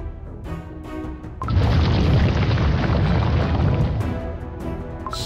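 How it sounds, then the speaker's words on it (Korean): A volcano erupts in Cookie Run: Kingdom. After a quieter opening, a sudden loud, rumbling boom swells into a sustained, dense roar that carries on to the end. "화산이 폭발하려고 해!"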